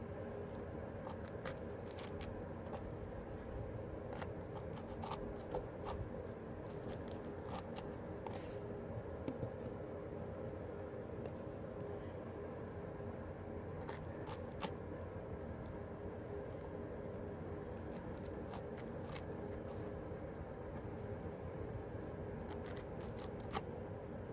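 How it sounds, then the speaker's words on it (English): A knife cuts through a loop of tough, higher-gauge polypropylene rope in a push cut, taking a couple of tries. Faint, scattered scraping clicks sound over a steady low background hum. "The push cut through the loop took a little bit more effort, a couple tries, but eventually cut through."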